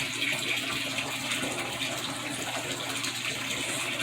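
Water runs steadily into a bathtub as it fills, a constant gushing hiss from a tap with no talk over it.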